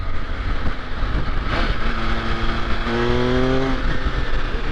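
An MV Agusta Enduro Veloce adventure motorcycle engine pulls hard under acceleration, its rising tone climbing through gears over steady wind and road roar while riding.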